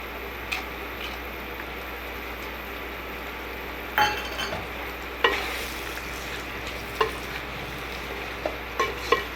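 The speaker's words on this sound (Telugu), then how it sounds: "ఇది ఒక 10 నిమిషాలు మంచిగా ఫ్రై చేయాలి." Cabbage with turmeric and pre-cooked chana dal stir-fries in a pan, a steady soft sizzle broken by several sharp metallic clinks and scrapes of a spatula against the pan, no talking.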